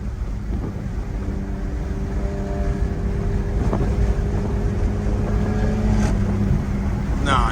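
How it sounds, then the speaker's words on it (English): Loud, steady engine and exhaust rumble from a car at an exotic car meet, holding a constant droning level throughout with a brief sharper burst near the end, outdoors with some wind noise. "his exhaust is OD loud"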